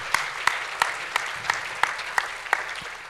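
At a water forum, a sparse, evenly spaced clapping rings out: about nine distinct claps in a slow steady rhythm over a faint room hum, sounding like a single person or a small group rather than a full crowd.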